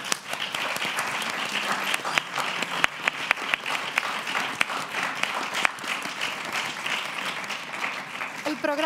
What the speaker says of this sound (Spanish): Les damos las gracias con un aplauso.